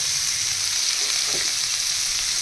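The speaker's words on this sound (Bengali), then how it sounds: "পেঁয়াজ আর কাঁচা লঙ্কা একটু ভাজা ভাজা করে নেব।" Onion and green chilli fry in hot oil, giving a dense, constant sizzle at close range with a faint stir in the middle.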